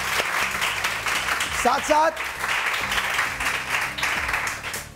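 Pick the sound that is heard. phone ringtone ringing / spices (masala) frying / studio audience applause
studio audience applause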